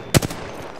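A short, loud burst of gunfire in the battle royale game Apex Legends, a sharp shot followed by a couple of quicker fading reports within a second.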